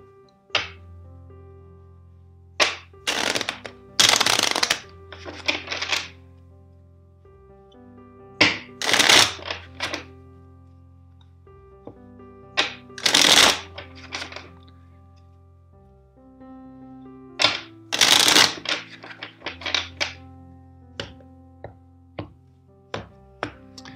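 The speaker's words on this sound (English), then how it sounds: "First, let's shuffle the deck four times for you." A deck of tarot cards is riffle-shuffled four times, each burst a loud fluttering rush followed by soft taps as the cards are squared.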